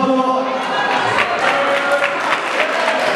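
Carnival crowd at a Carnevale event in Cesano Maderno clapping and cheering, a steady wash of applause with raised voices and children's shouts mixed in throughout.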